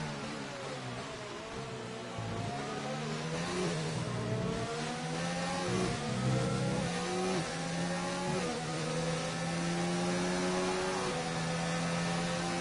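Formula One race cars, a Williams and a factory Renault, scream past in a racing video game, their high-revving engines rising and dropping through gear changes and braking, loud and continuous throughout.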